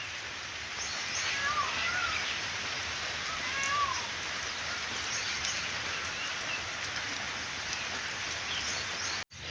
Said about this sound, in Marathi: सकाळ सकाळीच पावसाला सुरुवात झाली अगदी सहालाच आणि पाऊस आता मला असं वाटतं कंटिन्यू राहणार आहे